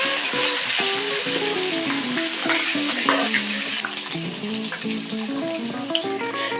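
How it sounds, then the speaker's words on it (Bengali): Goat fat frying in mustard oil with turmeric and salt gives a dense, steady sizzle that runs without a break, with the oil crackling and popping close up. Nobody speaks. "এবারে আমি সবার প্রথমে খাসির তেলগুলি একটু ভেজে নেব"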